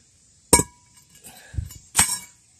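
A weight knocked off a lawnmower gives two sharp, ringing metallic clanks about a second and a half apart, close and loud, with a softer scrape and knock between them.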